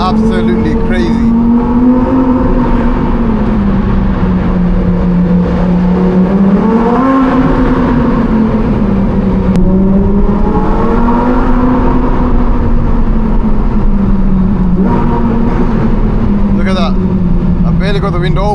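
Lamborghini Huracan Performante V10 on its standard exhaust in Corsa mode, driven through a tunnel: a loud, sustained engine roar that swells and eases as revs climb and fall, close and continuous for the whole stretch.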